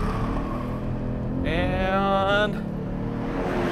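A 2022 Genesis G70 RWD launches hard on launch control, its engine note climbing steeply in a loud, rising rev sweep that peaks and drops into a gearshift, heard from inside the cabin with a brief spoken word at the start.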